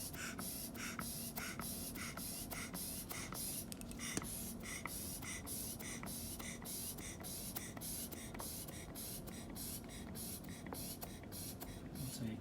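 A pressure bag is pumped up in quick, regular puffs of air, each a short soft hiss repeating steadily at close range, fairly faint and with no voices.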